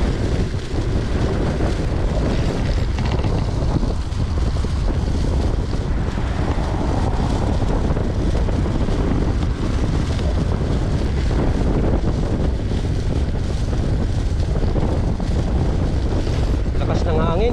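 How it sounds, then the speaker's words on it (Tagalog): Strong wind buffets the microphone during a ride, in a steady, loud roar that barely lets up for the whole stretch. "Lakas ng hangin."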